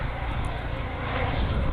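A Sikorsky S-97 Raider compound helicopter with a pusher propeller, approaching in flight at Redstone Arsenal in Huntsville, a loud, continuous broadband engine and rotor roar that swells slightly as it nears.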